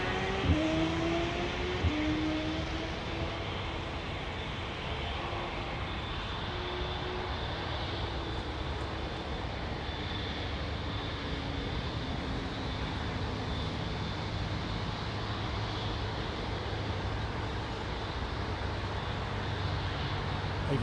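A Sri Lankan airliner powered by Rolls-Royce Trent 700 engines climbs out from London Heathrow. It gives a faint, distant, steady roar with a falling whine at the start, over low background rumble.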